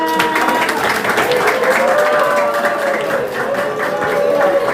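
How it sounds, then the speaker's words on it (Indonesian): Audience at a school seminar on patents and intellectual property applauding to welcome a guest speaker, steady dense clapping from a large crowd lasting several seconds, loud and continuous with a few voices mixed in. "tepuk tangan buat Pak Juhara"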